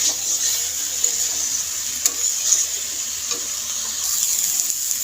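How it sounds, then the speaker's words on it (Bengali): Boiled cauliflower and potatoes fry in a pan, producing a dense, steady hiss of sizzling oil close by, broken by a few light knocks of a stirring spoon, with no talking. "এখন আমি এগুলোকে ভালো করে ভেজে নেব।"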